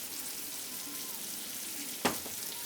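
Soy sauce goes into vegetables already frying for mixed fried rice. A quiet, steady sizzle runs throughout, and near the end a sharp, brief hiss flares up before settling back. No one speaks.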